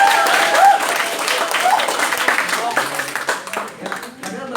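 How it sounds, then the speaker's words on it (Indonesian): Classroom applause during a peer-teaching session, a dense patter of clapping that tapers off toward the end while voices carry over it. "Nah itu tepuk tangan semuanya."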